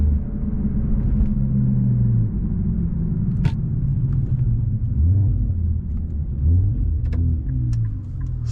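An Infiniti Q50 with a resonated LDP exhaust rumbles deep and steady under load while driving, with the engine note rising and falling through revs, heard from inside the car.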